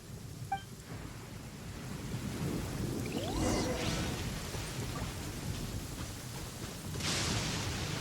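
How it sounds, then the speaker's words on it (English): A thunderstorm in the video game Genshin Impact: steady rain hisses over a low rumbling roll of thunder that swells and lingers, with a faint sharper crack near the end, no talking. "Uh-oh! Lightning storm!"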